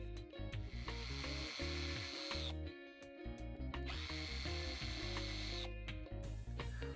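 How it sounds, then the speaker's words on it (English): A power drill with 3mm then 4mm bits whines loudly through metal rivets on a Matchbox Volkswagen Caravette toy car in two long bursts with a short pause between, the pitch dropping as it bites in. "I start out by drilling out both rivets that hold the seats on the inside."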